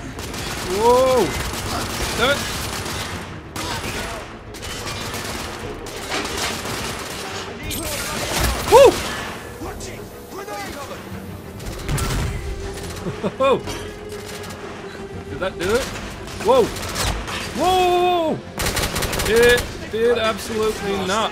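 Pistol gunfire in The Order: 1886, a third-person shooter, with scattered sharp shots and bursts amid game effects and music while a player talks over the action.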